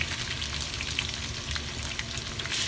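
Shrimp cooking in canola oil in a hot pan, a steady close sizzle and crackle of frying that runs evenly throughout with no talk over it.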